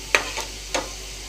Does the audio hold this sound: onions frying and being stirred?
yes